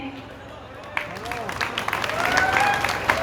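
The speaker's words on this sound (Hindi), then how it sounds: "मैं चाहती हूँ एक बार आप तालियां बजा के मुझे हुक्म दे दें।" Audience at a mushaira poetry gathering breaks into clapping that swells from scattered claps to fuller applause, with a voice and some tonal sound running underneath.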